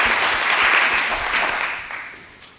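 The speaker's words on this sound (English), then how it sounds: "If we can just give a big round of applause to our panellists, please." Crowd applauding panellists at the close of a 2013 start-up growth seminar. Loud, continuous clapping swells early, then tapers off toward the end.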